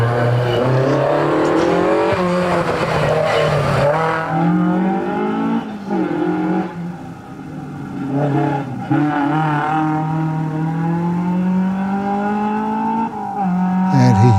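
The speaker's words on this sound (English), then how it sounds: "Mark Povey's little Datsun coming around the tight hairpin there." A little Datsun race car rounds a tight hairpin at a lakeside hillclimb, its engine loud and close, pitch rising and falling through gear changes as it brakes and powers out of the bend.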